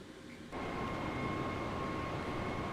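Steady cabin drone inside a Jetstar airliner in a virtual flight simulation, a broad low rumble with a faint steady tone that switches on abruptly after half a second and then holds unchanged, close and moderately loud, with no speech.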